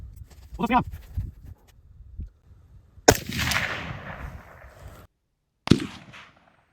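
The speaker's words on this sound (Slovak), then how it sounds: "Takže tretia puška Anderson, tlmič ASE Ultra. Idem strieľať." Suppressed shots from an Anderson AR15 rifle fitted with an ASE Ultra suppressor, two sharp loud reports a few seconds apart, each with a short decaying tail, after a stretch of quiet talk.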